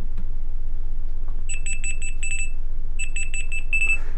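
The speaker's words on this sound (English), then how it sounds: "And you can hear the alarm going off." Remote alarm on an Amazon Fire tablet rings in two bursts of rapid, high electronic beeping, a short pause between them, loud and close over a quiet room hum.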